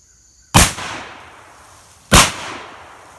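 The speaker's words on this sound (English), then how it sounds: "I'm going to shoot first with a slug, then double aught buck, and then a 3-inch Magnum turkey load." An MKA 1919 shotgun firing slugs at an outdoor range, with two loud sharp blasts about a second and a half apart, each trailing off in a short echoing decay.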